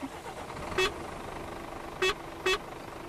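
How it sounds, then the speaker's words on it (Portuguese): Three short bus horn honks in the Euro Truck Simulator 2 driving game, a single blast followed by two closer together, sounding over a steady low engine drone. "Essa buzina é top, viu,"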